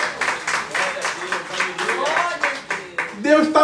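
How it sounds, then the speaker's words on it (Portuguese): A church congregation claps in a brisk, rhythmic pattern, the claps moderately loud and spread across the room, while a speaker's voice rises over them toward the end. "mais uma vez, aplauda o Senhor e diga glória a Deus"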